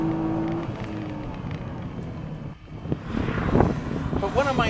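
A Nissan GT-R accelerates hard, its engine note climbing in pitch through the revs, building from a steady drone into a louder, rising roar toward the end.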